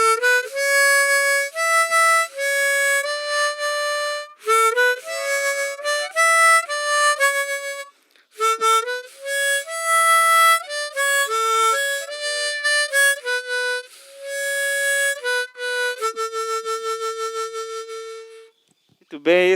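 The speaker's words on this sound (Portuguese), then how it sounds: "esse é o som da gaita diatônica" Diatonic harmonica playing a well-known song in a school music workshop, bright reedy melody with bent notes in lively phrases, close and clear, a brief pause midway and a long held note near the end.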